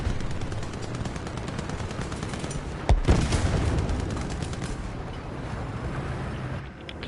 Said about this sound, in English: You got an AA gun there. I'll do my best to shoot that.